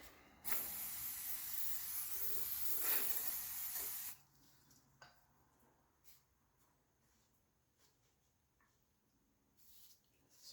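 Aerosol spray blasts steadily for about four seconds during a Triumph TR6 gearbox rebuild, loud and hissing, then stops, leaving faint workshop clicks and handling noises.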